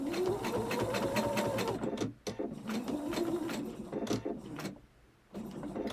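A sewing machine runs in steady bursts of rapid stitching as it sews binding onto a table runner, with brief pauses between runs.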